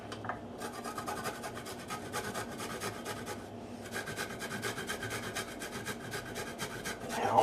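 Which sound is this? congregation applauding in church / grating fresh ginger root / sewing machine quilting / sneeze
grating fresh ginger root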